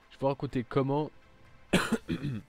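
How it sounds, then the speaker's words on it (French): A sharp, loud cough bursts out between stretches of nearby talking, standing out clearly from the voices around it. "je tousse encore"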